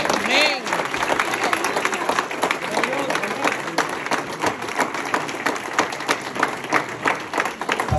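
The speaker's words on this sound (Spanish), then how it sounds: "Dar un aplauso a Cristo" A church congregation applauds in a steady, dense wash of clapping that fills the room, with voices calling out over it.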